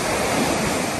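Sea waves on a beach in Dubai make a steady, loud, broad wash of surf, roaring continuously and close with some wind noise and no voices.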